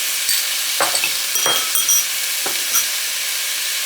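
Spinach and garlic fry in a pan, giving a soft, close sizzle with a few brief stirring scrapes and bursts.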